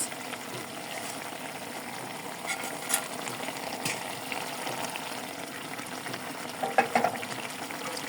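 Fish goes into a pan of hot oil in a village kitchen, giving a soft continuous frying hiss with a few light clinks and stirring knocks near the end, moderately quiet and without speech.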